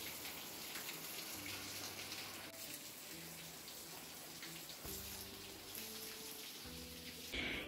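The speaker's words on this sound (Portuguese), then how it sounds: "tava chovendo muito forte." Heavy rain pours down in the middle of the night, around three in the morning, as a quiet, continuous wash of patter with a faint low hum beneath it.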